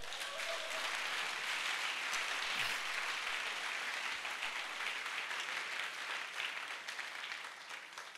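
A church congregation at a faith seminar breaks into sustained applause, a broad wash of many hands clapping at moderate distance that thins slightly toward the end.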